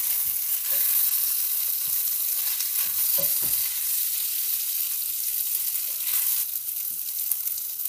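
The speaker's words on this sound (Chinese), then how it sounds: "爆到啲烟肉释出油分，就可以加埋啲蒜头落去，爆到啲蒜头同烟肉微黄就可以啦" Bacon, ginger slices and garlic fry in a wok with a steady, dense sizzle and occasional stirring clatter, close and continuous.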